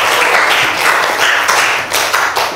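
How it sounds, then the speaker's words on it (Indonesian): A classroom of students applauds a classmate named Alice during an Indonesian lesson, giving steady, close, fairly loud clapping that continues with no gaps. "Tepuk tangan buat Alice."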